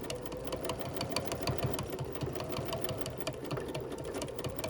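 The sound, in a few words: Bernina sewing machine stitching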